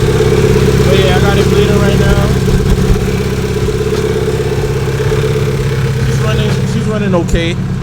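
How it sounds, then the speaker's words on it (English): A turbocharged H23A engine in a sixth-generation Honda Accord idles steadily at its first start, a constant low rumble with a shaky, uneven edge, while someone talks close by throughout. "It's idling right now. It's running."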